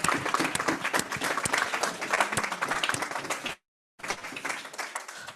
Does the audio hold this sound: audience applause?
yes